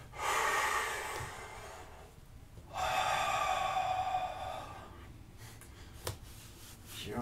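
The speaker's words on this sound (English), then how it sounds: "Breathe in deeply here." Deep breathing during a yoga session, two long loud inhales, each drawn out over roughly two seconds and separated by a quiet gap, followed by softer exhaling and a small rustle.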